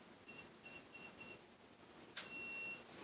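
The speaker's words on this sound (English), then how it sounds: "you hold till the long beep has finished" Long electronic beep from a keyless entry deadbolt lock, a steady tone of about half a second held alone after several short chirps, fairly faint and close.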